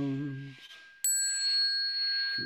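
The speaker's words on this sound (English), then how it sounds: "we have a bell song. Here it is. The bells sound wide, resounds" A bright bell strikes once at close range and rings on with a long, steady sustained tone in a lecture on a Buddhist master's biography, after a brief stretch of low tonal sound.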